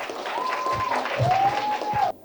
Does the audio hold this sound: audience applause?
yes